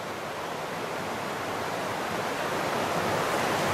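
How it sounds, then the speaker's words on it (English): A river roars in an unbroken wash of broadband rushing noise, moderately loud and completely steady from start to finish, with no voices over it. "Hope you guys can hear us over top of the roar of the river."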